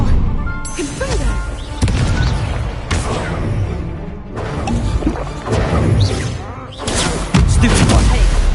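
Confringo blasting spell explosions in Hogwarts Legacy: loud bursts and smashing crashes come in waves with short lulls between them, mixed with other spell impacts and game audio. A voice speaks at points.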